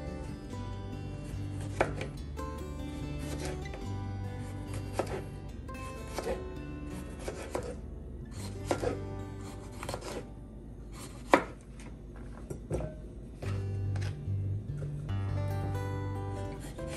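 A knife slices cucumbers into spears for dill pickles on a cutting board, a series of quiet, close, irregular chops and taps separated by short pauses, with no talking.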